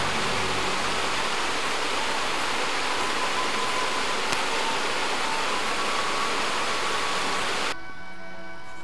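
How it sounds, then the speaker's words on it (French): Small waterfall on the Cagne river near Vence, a steady, full wash of falling water rushing without pause, close and fairly loud, before cutting to something quieter at the end. "et notre jolie cascade."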